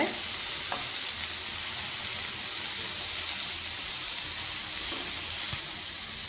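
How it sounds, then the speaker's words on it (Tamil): Ridge gourd and tomato sautéing in a pan for chutney, a steady even sizzle with a few faint stirring knocks. "தக்காளி சேர்த்துட்டு நல்லா வதக்கிக்கலாங்க"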